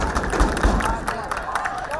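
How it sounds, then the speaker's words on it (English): Crowd at a high school football game between BHS and Framingham cheering after a run, a loud continuous roar of voices with claps and stomps, close and sustained. "Crowd celebrating"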